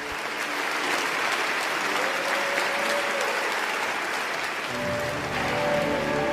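Festival audience applauding an actress at a film awards ceremony, a thick, steady wash of clapping from a large crowd lasting the whole stretch, with faint voices beneath.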